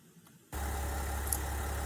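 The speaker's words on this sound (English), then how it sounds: "The engine is running." A car with a GM 10L80 or Ford 10R80 ten-speed automatic transmission idles in drive on a lift, its engine starting a steady low hum that runs on evenly and moderately loud after a quiet moment.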